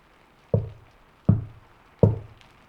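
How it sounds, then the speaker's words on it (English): Three firm, evenly spaced knocks on a wooden door, each with a short hollow ring, separated by quiet pauses. "The knock came again."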